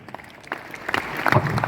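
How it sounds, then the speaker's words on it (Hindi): An audience at a mega leadership and income testimonial event gives brief scattered clapping that builds slightly toward the end, fairly quiet and without voices over it. "ऐसी तालियां इतनी दहाड़ के लिए यार, तालियां आपकी जोरदार।"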